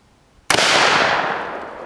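A single loud, sharp gunshot from a .44 Magnum Smith & Wesson revolver at an outdoor range, cracking suddenly and then ringing out in a long, slowly fading decay, with no talk.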